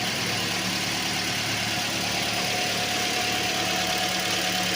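A Toyota Corolla Altis engine idles steadily after repair of a shaking fault, a continuous even hum with no rises in revs, heard close up with no talking.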